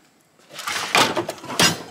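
A metal tool drawer in a home garage, where a BMW 650i is being repaired, rattles open or shut in two quick clattering bursts, close and fairly loud.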